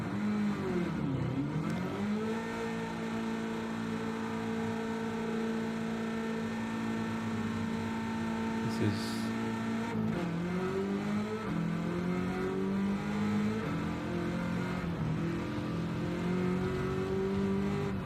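Race car engines in Gran Turismo 7, including a Camaro on track: sustained loud engine tones rise and fall with revving and gear changes over the whole stretch, with no talking.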